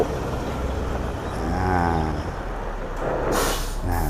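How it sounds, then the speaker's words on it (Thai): A Mercedes-Benz 2635 tractor truck with a twin-turbo V8 manoeuvres, with a low honking drone and then a sharp burst of air-brake hiss near the end, followed by a second brief hiss. "สังเกตนะครับเสียงล้อล็อกลาก ไปกับพื้นเลยแล้วก็เสียงลมเบรกหม้อลมเบรกทำงานได้ดีนะครับ"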